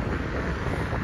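Cool wind blowing steadily outdoors in a Dnipro street, a constant low buffeting rush across the microphone with no break for the whole short moment.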